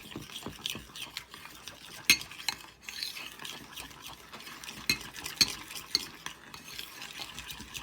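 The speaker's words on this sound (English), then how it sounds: "And now we're just going to give that a good mix." A utensil stirs appetizer sauce ingredients with a dash of garlic powder in a bowl, giving steady soft scraping and clinking taps with no talking.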